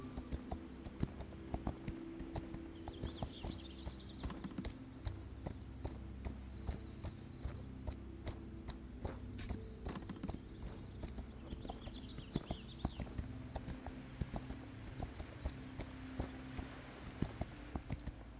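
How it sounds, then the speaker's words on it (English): Horse hooves clip-clop steadily in the video game Equinox: Homecoming, a quiet, even walking rhythm over a low ambient game soundscape with no talking. "My horse is drunk."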